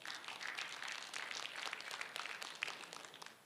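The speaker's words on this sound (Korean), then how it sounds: "박수로 맞아주세요" Audience applause at an academic society's annual meeting and special lecture session, steady dense clapping from a crowd that continues evenly and fades slightly at the end.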